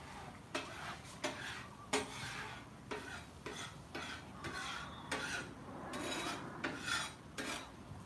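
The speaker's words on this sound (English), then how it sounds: "all this stuff I'm scraping off" A metal scraper rasps across a Blackstone flat top griddle, clearing cooked-on residue in a series of short, sharp strokes at an uneven rhythm, close and fairly quiet with no talking.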